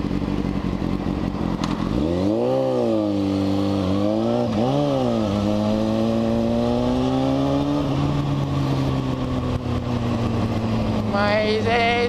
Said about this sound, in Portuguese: tem que me acostumar com essa moto aí